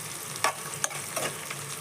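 Onion and cinnamon fry in a pan for chicken curry, a soft continuous sizzle broken by a few brief scrapes of a spatula, close and without talk.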